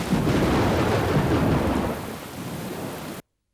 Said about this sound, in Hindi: बाहर बारिश होने लगी है।